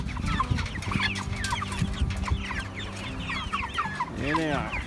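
Cornish Cross meat chickens cluck and chatter continuously in a close flock, with overlapping calls and a louder squawk near the end, over a low background hum.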